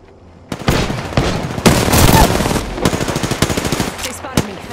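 Gunfire is aimed at the player in the Apex Legends video game, loud rapid automatic bursts and single cracks arriving in close succession.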